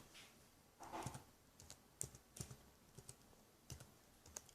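A password is typed on a computer keyboard, heard as soft, irregular key clicks in small bursts, quiet and close with no talking.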